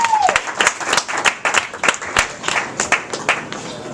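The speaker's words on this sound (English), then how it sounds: "Give him a round of applause here for getting out and getting what I'm about to do to him" A comedy club crowd applauds a volunteer coming on stage, loud close clapping with sharp individual claps standing out, plus some crowd noise and a brief vocal whoop at the start.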